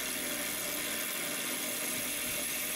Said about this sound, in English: start the drill press and begin drilling your hole